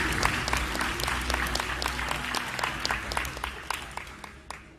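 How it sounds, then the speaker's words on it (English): Steady applause from an audience at a corporate presentation, many hands clapping in a dense, continuous wash with sharp individual claps standing out, holding at an even loud level throughout. "Let us give our loudest round of applause to Mr."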